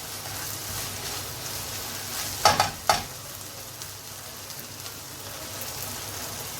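Oregano and spices being stirred into a pasta sauce in a pan over medium-low heat, with a steady soft sizzle and a few brief scraping clinks near the middle.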